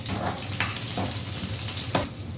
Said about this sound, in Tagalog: Igisa natin ang sibuyas. kasama ang bawang.